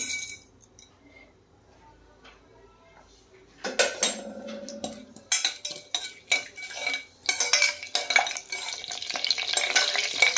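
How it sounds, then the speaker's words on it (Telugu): Mustard seeds, cumin and chana dal dropped into hot oil in a pan for tempering, giving a quiet start, then bursts of close sizzling and spluttering with clinks of a utensil stirring against the pan. "ఆయిల్ వేడైన తర్వాత పోపు అనేది వేసుకుంటున్నామండి."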